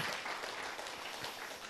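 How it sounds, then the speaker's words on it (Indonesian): Church congregation at a GBI fasting prayer service in Malang clapping together, a brief, dense patter of hands at a fairly quiet level. "Tepuk tangan kita bagi Tuhan."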